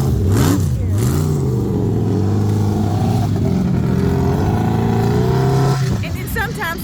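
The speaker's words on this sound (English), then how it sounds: "they've been revving up here and there" Off-road vehicles at the Glamis Imperial Sand Dunes in California rev their engines loudly and close by, rising and falling in pitch over a steady roar, then cutting back near the end.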